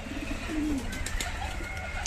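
Pigeons perched on a tin roof in a village coo softly and repeatedly, a low rolling call against steady background noise, close by with no talk.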